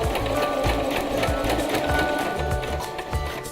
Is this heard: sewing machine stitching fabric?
yes